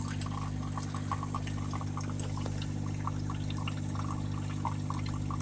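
A Canofea coffee machine pouring coffee into a cup, a steady trickle with small drips over a constant low mechanical hum from the machine.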